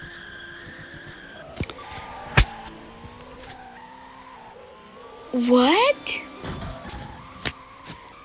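Cars doing burnouts at a video game car meet: sharp tire squeals and skids cut through a low engine hum, with one loud squeal burst near the middle and a voice speaking briefly.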